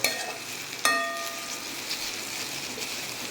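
Spices, green chilli and cumin, hitting hot oil for a tempering: a sharp sizzle burst near the start, then a steady hiss of frying with a faint metallic clink, no voices.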